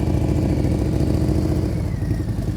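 A motorcycle engine at close range, steady and loud with a low throbbing rumble, running at a held rev as the rider works the throttle during a riding practice session.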